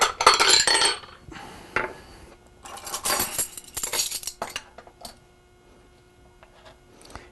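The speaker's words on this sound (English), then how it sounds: "And let me get a bowl out." A bowl is pulled out in a home kitchen and set down with several clinks and clatters of dishware, loudest at the start and again midway, then fading to light taps, with no talking.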